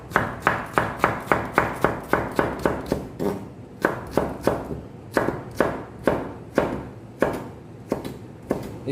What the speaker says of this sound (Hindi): चलिए हम इनको छोटे छोटे पीस में काटते हैं।